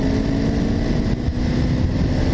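A Honda V65 Magna motorcycle accelerates hard in fifth gear from just over 1,000 rpm, its engine a loud, continuous, throaty roar close by, with wind rush and no talking.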